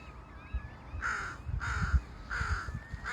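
Harsh, cawing gull-like calls ring out three times in a steady rhythm, fairly clear and nearby over quiet outdoor background, near nesting birds.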